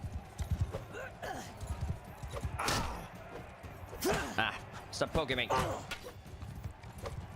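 Horse hoofbeats clop in the medieval combat game Mount & Blade II: Bannerlord, mixed with thuds and battle noise while someone talks over the busy scene.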